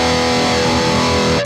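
Heavily distorted electric guitar rings out loud and dense in a short sustained burst, then cuts off abruptly at the end.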